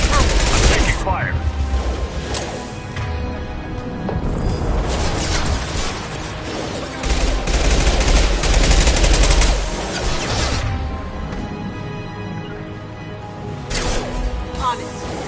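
Heavy gunfire in a Mass Effect 2 Legendary Edition firefight: dense, loud, near-continuous volleys and impacts for the full stretch, with brief lulls and voices mixed in at times.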